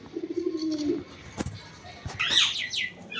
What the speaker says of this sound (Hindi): अभी इनको दाना डाल देते अपने परिंदों को, कबूतरों को